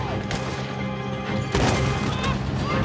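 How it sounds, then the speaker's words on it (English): Two sharp, heavy shotgun blasts in Red Dead Redemption 2, close and booming, spaced over a few seconds against a continuous rumbling game background. "Not with this shotgun."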